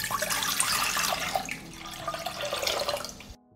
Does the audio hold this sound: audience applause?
no